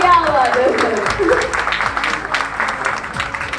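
An audience claps loudly at a formal Indian women's event. The applause is a dense wash that tapers and pulses but never stops, and a voice can be heard speaking over it.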